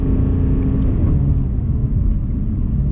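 Cabin noise inside a BMW E46 M3 at speed on the freeway: a loud, steady low rumble of engine and road with a faint whirring drone above it, no talking.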